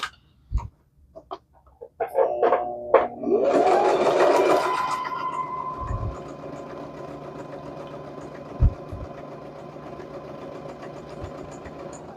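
Sewing machine stitching quilted paper, a short burst of rapid mechanical whirring and clatter after a few taps, then a fading hum and occasional clicks, no talk.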